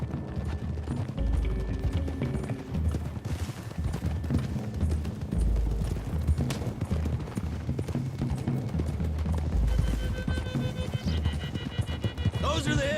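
Horses gallop across open country in Red Dead Redemption 2. Hooves beat continuously and loudly under music and a brief whinny, with scattered gunfire.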